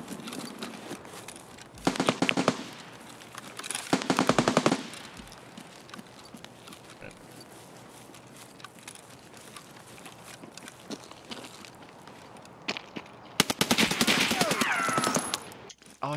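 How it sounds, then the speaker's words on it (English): Automatic gunfire from the video game Escape from Tarkov comes in three loud rapid bursts, two close together early on and a longer burst near the end, with quieter game ambience in between. "Shooting SMB at those kids."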